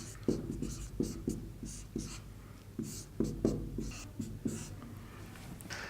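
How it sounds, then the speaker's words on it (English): Pen strokes scratching across paper as a list of graph edges is written out, a steady run of short scritches and taps with brief pauses between entries, close and fairly quiet with no talking. "So I'll write down the list of edges here."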